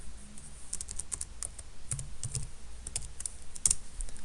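Rapid clicks of keystrokes on a computer keyboard, brisk and close, ending with a firmer press of the enter key.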